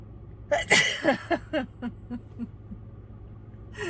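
A single sneeze bursts out, followed by a series of short, fading sniffs or gasps trailing off in a quiet room.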